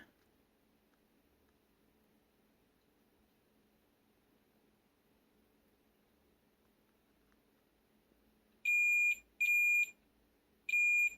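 A multimeter continuity tester beeps on a water-damaged Nintendo DSi, with three short, clear electronic tones close together near the end after a long stretch of quiet.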